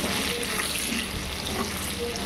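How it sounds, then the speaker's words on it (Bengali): Potatoes fry in rendered pork fat with turmeric and salt, giving a dense, steady sizzling hiss throughout. "তেল দিইনি আমি, এই মাংসের তেলে আলুগুলো ভালো করে ভেজে নেব, লাল লাল করে।"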